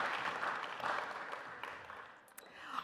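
Audience applause for panelists at a Tulane Ventures panel during New Orleans Entrepreneur Week, a dense, steady clatter of many hands that eases slightly toward the end, with no voices.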